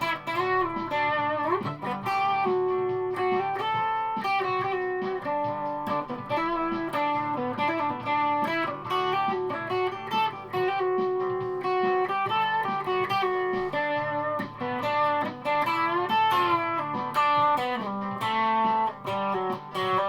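Electric guitar played through a blues distortion pedal, with volume and tone turned down a little, giving a continuous, moderately loud overdriven run of notes and chords for the whole stretch.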